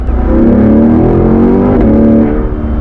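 Car engine revving loudly and steadily, a rich harmonic drone that swells and shifts pitch across the span, close and alone with no talk.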